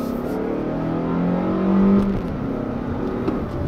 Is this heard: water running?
no